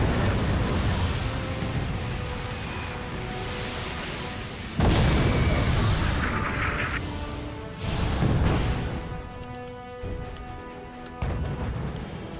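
T-55 tank cannon fire in the real-time strategy game Wargame: Red Dragon, a few heavy booming blasts spaced several seconds apart over a constant rumble of battlefield noise.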